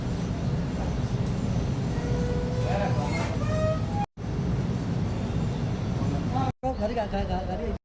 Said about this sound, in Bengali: ওই যে ট্রেন যাইতেছে, মেট্রো ট্রেন, মেট্রো ট্রেন যাইতেছে